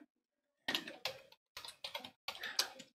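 Quiet computer keyboard typing comes in short bursts of clicky keystrokes separated by brief pauses, close and isolated in a silent room.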